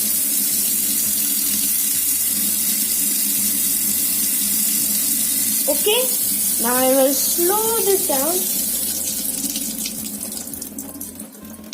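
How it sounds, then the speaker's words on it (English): Water runs steadily from a tap onto the turbine of a small hydroelectric school model that lights LEDs, a continuous splashing hiss throughout with a few brief spoken words over it near the end. "now I will start this water and then it will pour here"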